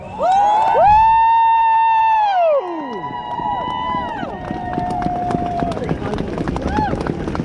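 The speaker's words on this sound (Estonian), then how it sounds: "palun, et teeksime Sparta juhtidele nüüd ühe tõesti suure aplausi" A crowd at a rally or gathering cheers and claps with a dense, rumbling roar after a loud, sliding, horn-like wail opens the moment.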